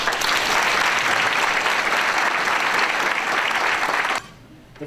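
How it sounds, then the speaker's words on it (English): An audience at a high school champions banquet claps loudly and steadily for about four seconds before the applause cuts off to a quiet room. "ladies and gentlemen, round of applause, please, for Mr. Anthony Namo."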